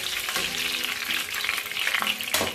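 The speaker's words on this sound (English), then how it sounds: "And it was fried in grapeseed oil." Southern-style haddock frying in grapeseed oil, a loud, dense, continuous sizzle close by with occasional clinks and scrapes of a utensil in the pan.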